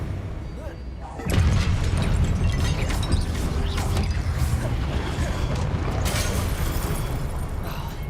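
A Confringo blasting spell goes off in Hogwarts Legacy, a sudden loud boom after a brief quiet moment that rolls into sustained rumbling, crashing battle noise with no talk over it.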